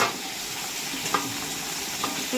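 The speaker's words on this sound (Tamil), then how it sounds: "இப்போ வந்து வெங்காயத்தை கொட்டணும்" Onions fry in a pan for mutton biryani, giving a steady, close, dense sizzle with occasional soft stirring scrapes.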